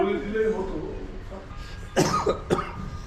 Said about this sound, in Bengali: কাশিটা কমেছে মনে হচ্ছে।